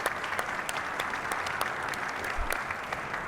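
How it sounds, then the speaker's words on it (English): An audience at a state transportation CEO roundtable applauds the panel members, a steady patter of many hands clapping at moderate loudness for a few seconds. "I would like to ask you to join me in a round of applause for our second panel members"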